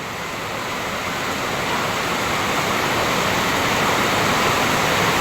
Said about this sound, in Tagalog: the rain is so strong